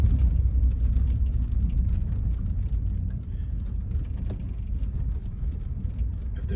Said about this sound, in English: I'm gonna drive slow for the sake of the vehicle.